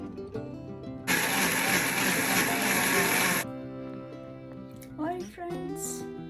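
A mixer grinder blends onion and tomato into a paste for aloo gobi masala gravy, a loud steady whir running about two seconds in the middle, with background music playing before and after.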